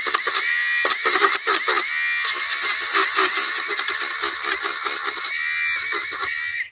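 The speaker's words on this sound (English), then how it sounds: "I'm going to take that electric shaver." Electric shaver buzzing steadily and loudly up close as it trims fabric nubs off a shoe, its whine dipping and rising in short rhythmic passes against the material.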